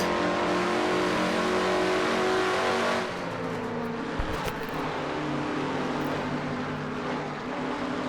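A race car engine in a racing video game, heard from the in-car camera at Rockingham, roars loudly at high revs, then drops to a lower steady drone after a few seconds, with a brief clunk midway.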